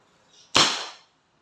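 A single shot from a Crosman SNR 357 airgun revolver: one sharp, close crack with a short fading tail, alone in a quiet setting.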